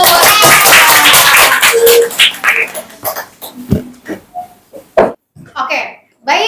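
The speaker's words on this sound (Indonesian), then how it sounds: "Oke, baik, tepuk tangan dulu." A girls' class at an Islamic junior secondary school claps hands, starting as a brisk, dense burst of clapping that thins into scattered, separate claps, with voices speaking throughout.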